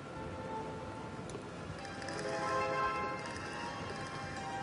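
Steady hoofbeats of a dressage horse in an extended trot at a moderate distance, with a faint ambient hum and a few faint ringing tones in the background.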